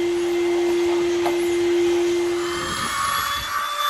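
A power saw whines steadily as it cuts along an oak worktop being fitted in a vintage coffee van, a sustained high-pitched tone that shifts near the end of the cut.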